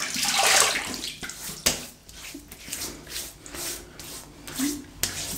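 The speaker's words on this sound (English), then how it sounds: "Right, so I'll wet the face." Water splashes and sloshes in a sink as hands scoop it up to wet a face before a shave. The irregular splashes and rubbing sounds come from close by, with a few soft sounds of movement mixed in.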